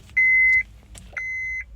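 A Honda CR-V's dashboard chimes as the ignition is switched on: two clear electronic beeps, the first about half a second long and the second slightly longer, close and loud over a quiet cabin.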